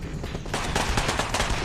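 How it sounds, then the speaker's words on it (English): Gunfire sweeps a jungle village as the SAS are pinned down by rebels with AK-47s: a short, dense burst of rapid shots, loud and close, with no voices. "gunfire sweeps the village"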